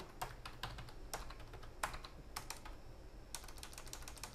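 Keys on a computer keyboard are typed in quick, irregular clusters of light clicks, faint and close, with a brief pause before a final flurry.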